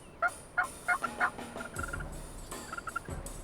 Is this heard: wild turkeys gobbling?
yes